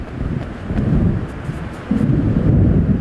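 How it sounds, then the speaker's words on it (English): Deep rolling thunder from an approaching storm in the game Alan Wake Remastered, two long low rumbles swelling one after the other over wind noise and faint rain, with no voices. "It seems there's a storm coming."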